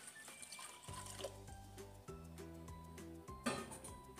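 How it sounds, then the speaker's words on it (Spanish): Water is poured into a cooking pot holding meat for mole de olla, a steady splashing, gurgling fill with shifting tones as the level rises, close and continuous for several seconds with no talk. "le vamos a poner agua."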